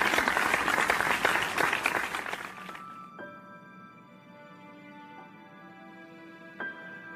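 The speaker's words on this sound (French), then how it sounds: "Sur vos applaudissements mesdames et messieurs." An audience applauds for a few seconds, a dense burst of clapping that fades out as sustained musical tones take over.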